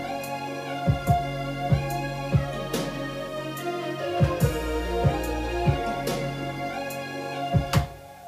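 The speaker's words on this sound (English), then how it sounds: "It's a snare, 2 snares and a tom, and I EQ'd and put some delay to kind of get that effect." A produced beat of layered snares and a tom, shaped with EQ and delay. Punchy hits fall at a steady pace over a sustained tonal bed, each hit trailed by echoing tails, playing alone.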